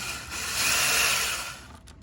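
A cordless drill fitted with an attachment whirs steadily while work is done on historic casement windows, rising slightly before the motor winds down and stops as the battery dies.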